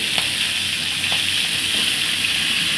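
Fish heads fry in hot oil with a loud, continuous bright sizzle and crackle, a few soft clinks of utensils rising above the steady hiss.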